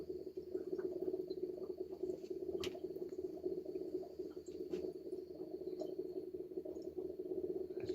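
Carbon dioxide bubbles through a small bubbler during honeybee queen insemination. It makes a faint, steady, rapid burbling patter with a low hum underneath, and a few soft clicks can be heard.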